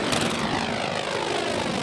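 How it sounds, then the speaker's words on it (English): A 1955 North American T-28 propeller aircraft in flight, heard as a loud, steady engine and propeller roar filling the space close by, with no talk. "I got to fly in the 1955 North American T-28."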